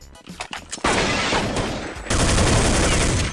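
Video game gunfire on an online server: a sharp burst of shots, then two sustained loud volleys of rapid fire filling the rest of the clip, with no voices.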